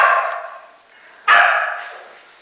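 Dogs in animal shelter kennels bark, two loud, close yelps or barks spaced apart, each trailing off with a ringing echo in the hard-walled room.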